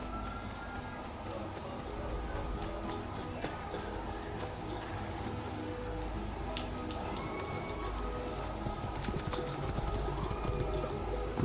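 Horse hooves gallop in Assassin's Creed II, a rapid, continuous patter mixed into busy game ambience, with a voice talking over it.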